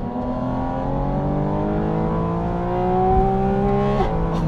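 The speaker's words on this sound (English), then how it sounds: "hear some wonderful intake noise from this engine" A Porsche 718 Spyder RS engine revs hard and climbs steadily in pitch, its loud intake roar building and then easing off as it shifts.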